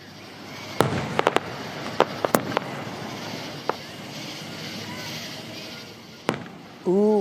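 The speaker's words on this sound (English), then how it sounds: "Last night, there was an impressive fireworks show." An Independence Day fireworks show at Lake Benson in Gardner: sharp bangs and crackling pops burst at irregular intervals over a steady outdoor hum of a gathered crowd.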